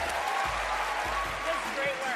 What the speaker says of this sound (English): A small round of applause